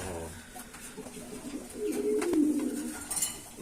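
Pigeons coo at a pigeon farm where coffee-coloured birds sit on eggs; a low, warbling coo swells in the middle of the stretch over a quiet background, with a faint clink near the end.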